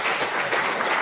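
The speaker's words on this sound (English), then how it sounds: "Give him a round of applause." A brief burst of dense audience applause at a convention, loud and continuous with no talking over it.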